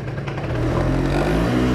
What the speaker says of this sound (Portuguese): Vamos andar nessa scooter aqui